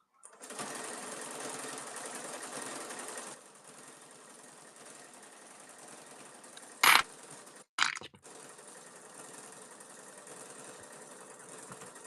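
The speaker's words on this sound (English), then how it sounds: "I put a wiggle stitch down the middle to seal my handle" A sewing machine runs a steady wiggle stitch down the middle of a tote bag handle, humming continuously at close range, easing to a softer run partway through, with two brief sharp clunks near the end before it resumes.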